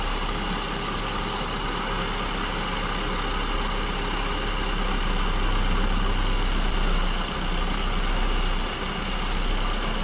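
A car engine idles on a lean mixture with its idle speed fluctuating, a steady loud rumbling drone that swells and eases slightly, heard up close without talk.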